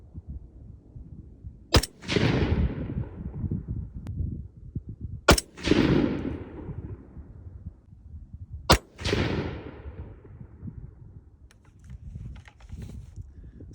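Three loud, sharp rifle shots fired with 175 grain Sierra MatchKing bullets from a PSA M110 Sabre or PA10 Gen 3 at roughly 100 yards, spaced several seconds apart, each followed by a rolling echo tail.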